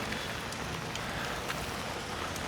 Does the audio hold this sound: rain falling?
yes